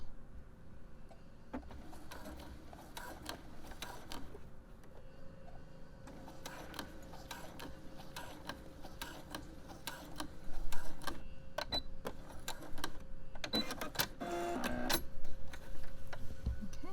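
A sewing machine basting a sports bra seam with a lengthened stitch, running in quiet ticking stretches that grow busier and louder toward the end, with faint handling noises between.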